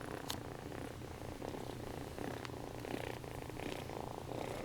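A steady, low purr from a cat continues without a break, close and quiet, with a few small clicks and rustles over the rumble.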